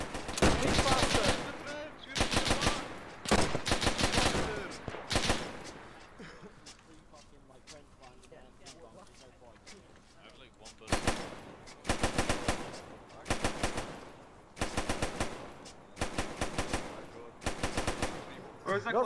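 Machine gun fire in a Dieppe Raid scene, loud sustained bursts separated by short pauses, with a quieter lull in the middle and voices under the shooting.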